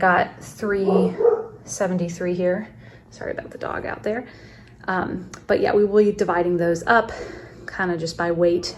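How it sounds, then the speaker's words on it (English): A dog barks outside, off in the background beneath steady indoor talking, during kitchen meal prep. "Sorry about the dog out there."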